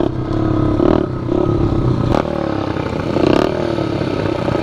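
A Honda Elite scooter fitted with a Polini Corsa 72cc kit revs loud and close, its engine surging and dropping in uneven bursts with some rattling clatter.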